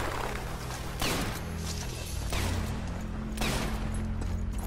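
Sniper Elite 4 video game combat, loud dense gunfire with three heavy blasts about a second apart over a constant roaring background, no voices.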